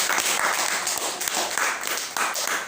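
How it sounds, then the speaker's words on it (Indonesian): Congregation clapping during a Sunday church service, a burst of hand claps in uneven waves that rise and dip, fairly close and loud. "Beri tepuk tangan."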